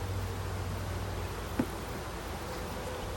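Honeybees hum as a steady, dense buzz throughout an open-hive inspection, close and continuous, with a brief rustle near the middle.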